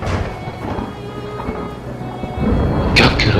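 Thunder rumbles beneath steady rain falling throughout, growing louder and closer near the end, with no voices present.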